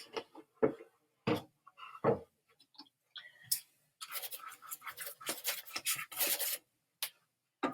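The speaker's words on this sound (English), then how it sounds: "Starting with the chisel 1 inch brush, I'm going to run the first washes at the very top." A one-inch chisel brush sweeping watercolor washes across paper, giving soft separate scratchy strokes at first and then quicker, denser rubbing brushwork, close and quiet with no talking.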